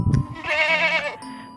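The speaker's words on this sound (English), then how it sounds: "Goats bleat" A goat gives one wavering, nasal bleat, loud and near, rising and falling for about half a second, with a faint bell-like jingle before and after.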